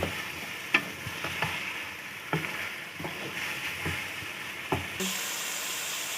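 Peas pulao ingredients fry in a pot with a steady close sizzle, broken by repeated scraping stirs and soft clinks of a spoon against the metal.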